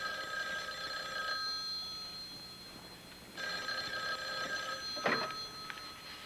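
An old-style telephone bell rings indoors in two long trills separated by a pause, fairly quiet and slightly distant, with a brief clunk near the end; no one speaks.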